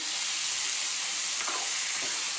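Tomatoes and onions sautéing in a pan for chutney, a steady close hiss of frying with a faint stirring scrape partway through, no talking.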